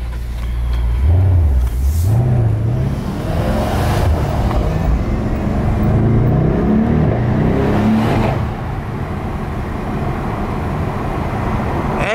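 Mercedes-AMG E63s V8 with its exhaust valves open, cruising on a highway at night: a loud, continuous engine drone that rises and falls in pitch as it revs.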